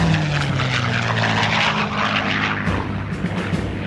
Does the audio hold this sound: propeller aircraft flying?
yes